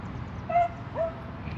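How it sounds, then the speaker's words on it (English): Beagle barking outdoors in the distance, two short faint yips over background noise. "letting her beagle bark like a lunatic"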